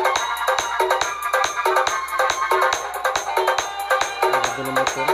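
A four-bend pressure horn sounds its first tone setting, playing a loud, continuous melodic pattern of sharp rising and falling blasts that repeat in a steady rhythm for the whole stretch.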